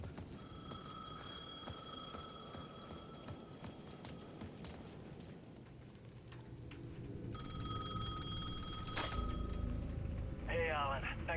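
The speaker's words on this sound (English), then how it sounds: "The payphone at the edge of the plaza was ringing again." Payphone ringing in the video game Alan Wake 2, a repeated electronic bell ring in two bursts on a plaza, with footsteps and ambient game noise underneath.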